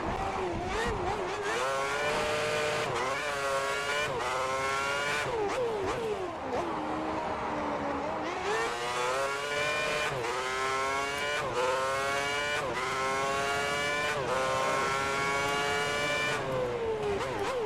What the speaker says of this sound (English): Alonso managed to maintain his lead off the line while the McLaren scrapped behind Vettel